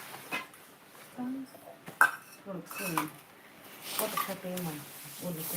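Dishes and cutlery are being washed, with intermittent clinks, clatters and scrapes of pots and utensils close by, while people talk throughout.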